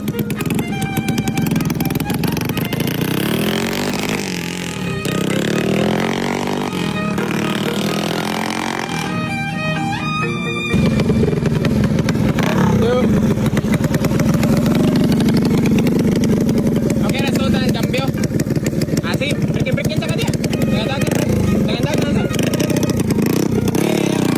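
A motorcycle engine during break-in idles and runs steadily close by, with a brief change around ten seconds before settling into a louder, constant rumble.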